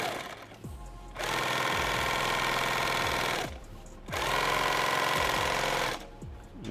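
A sewing machine stitches a canvas two-quart canteen in two long, fast, steady bursts, each a few seconds long and heard close, with short pauses and faint handling clicks between them.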